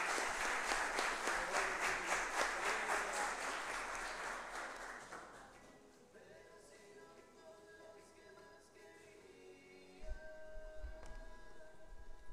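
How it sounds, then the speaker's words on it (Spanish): Audience applause welcoming a speaker to a conference talk on IT management: loud, dense clapping for about five seconds that fades out, then quiet room sounds with faint shuffling and a few bumps near the microphone. "Lo recibimos con un fuerte aplauso"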